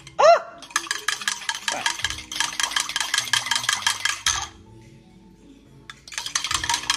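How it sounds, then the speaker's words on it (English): Yeast and salt are whisked in water for pizza dough, a fast metallic rattling against a bowl in two long bursts, a pause, then more whisking; a voice exclaims briefly at the start. "And you are going to put this, the yeast and the salt in there, and you are going to whisk it."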